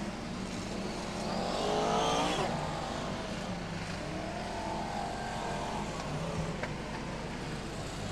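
BriSCA Formula 1 stock cars racing at Long Eaton in 1994, engines roaring and revving past down the home straight, one car swelling louder then fading, with steady track noise behind and no clear talk.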